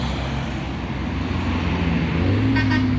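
A tourist bus passes on a road between Singkarak and Padang Panjang, its engine rumbling loud and close with a rising drone and a short horn toot near the end, amid steady traffic.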